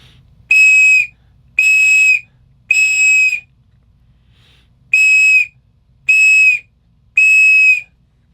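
A Thrunite titanium survival whistle is blown in six loud, piercing blasts, each about half a second long with even gaps, close and alone.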